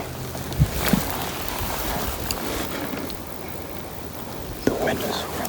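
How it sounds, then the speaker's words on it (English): Strong wind blowing outdoors during an archery elk hunt: steady broadband rushing and buffeting close to the microphone, with faint voices under it. "The wind is really pretty bad."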